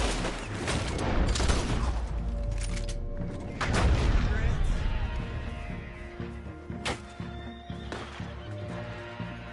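Gunfire in the video game Red Dead Redemption 2 Online, with heavy booming shots and rapid bursts layered over a dense, loud soundscape, plus horse sounds mixed in.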